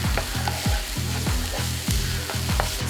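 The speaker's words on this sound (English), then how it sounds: "Give it a quick stir." Bell pepper and spring onion whites and greens sauté in a hot pan while a spatula stirs in quick, rhythmic sweeps, each stroke a loud close scrape over continuous sizzle, with no voices.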